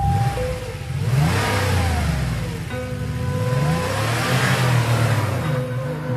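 A car engine revs and accelerates as a radio comedy sound effect, loud and close, with rising and falling engine tones sweeping up through gear changes over about six seconds.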